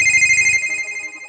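A telephone rings with a steady electronic tone, loud and close, holding for about a second before fading, with no talking over it.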